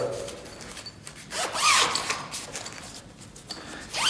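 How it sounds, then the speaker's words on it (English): A zipper with metal hardware is pulled shut on a neoprene carrying bag, one quick rasping zip near and loud, with a few lighter handling rustles around it. "Zips up nice and tight."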